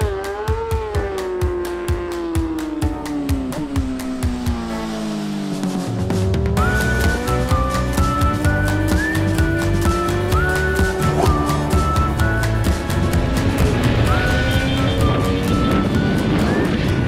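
A Kalex Moto2 racing motorcycle on the Circuito de Andalucía, its engine note climbing and falling through gear changes as it passes, loud and close, with a mechanical roar filling the whole stretch.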